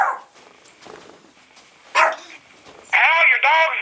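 A dog barks indoors, giving several sharp, close yips and barks interspersed with people talking, ending in a longer run of loud, high-pitched barking.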